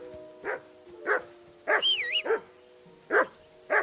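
Dog barking in the video game Kingdom Come Deliverance 2: a series of short, fairly close barks spaced about half a second or more apart, with a high whistling tone over a steady low hum in the middle.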